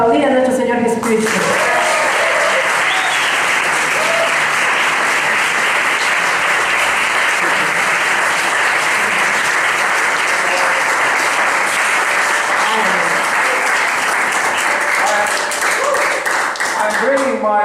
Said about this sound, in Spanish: Podemos aplaudir a nuestro Señor Jesucristo